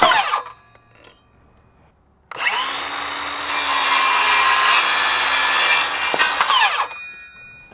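Wooden boards cut to length for a hinged hoop house over a raised garden bed: a few quiet knocks, then one loud, sustained whining power-saw cut lasting about four seconds before winding down.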